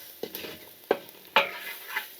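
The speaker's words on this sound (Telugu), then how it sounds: "ఉల్లిపాయ ముక్కలు మంచిగా మగ్గుతాయండి" Onion pieces with curry leaves and salt cooking in a pan for an egg omelet curry, a few distinct stirring scrapes over a faint sizzle, close and brief.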